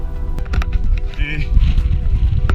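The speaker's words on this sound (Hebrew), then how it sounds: "רוחות חזקות, מלא רוחות" Strong wind buffets the microphone in a dense low rumble during a marathon run in Tiberias, with faint clicks and movement noise over the steady roar.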